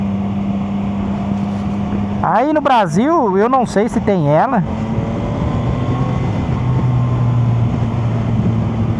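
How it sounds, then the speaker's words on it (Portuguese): A CFMoto 1000 three-cylinder motorcycle engine drones steadily in the background while someone talks over it close to the microphone. "estou impressionado com o ronco dos 3 cilindros"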